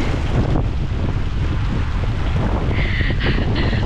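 Strong headwind roars and buffets the microphone during a bicycle ride in a constant low rumble, with a few higher whistling gusts near the end.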